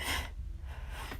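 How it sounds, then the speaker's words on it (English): A person yawns in a single drawn-out breath, a loud open inhale trailing into a softer exhale, close and alone with no talk over it. "I just yawned when she said it."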